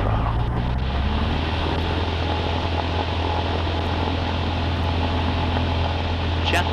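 A Cessna 150 engine runs at full throttle during the takeoff roll, a steady loud droning roar with a strong low hum, heard constantly from inside the cockpit.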